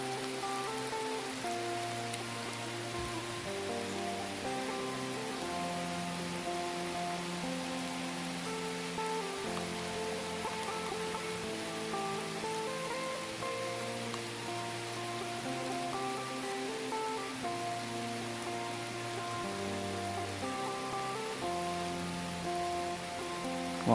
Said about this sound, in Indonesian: Malam angin, ini hujan.